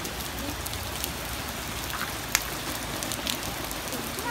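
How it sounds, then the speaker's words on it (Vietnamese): Light rain falls steadily on a mountain road near Đồng Văn, a soft continuous patter with a few sharper drop hits, heard alone at moderate distance. "Trời đã ngớt mưa một chút"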